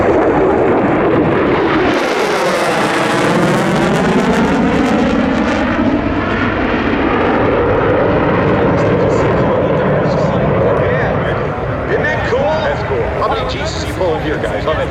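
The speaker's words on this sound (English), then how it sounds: "Growler, electronic jamming pods. It is a very advanced aircraft." A Boeing EA-18G Growler jet roars past at an air show, loud and close with a falling Doppler sweep and rumbling thrust that fades slowly, with voices talking over it.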